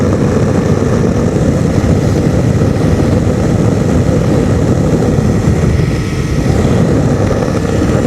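A small light aircraft flies slowly, its propeller engine droning loudly and continuously from close by. The pitch stays steady and no one talks.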